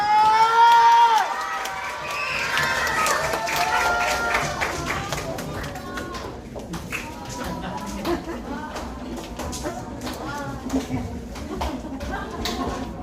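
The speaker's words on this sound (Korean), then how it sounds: "통모쌤 나오실 때 박수!" Children applaud and cheer during an elementary Sunday school church service, a lively crowd of clapping and excited young voices that starts loud and settles into steady busy clapping and chatter for the rest of the stretch.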